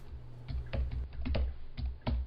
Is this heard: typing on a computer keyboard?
yes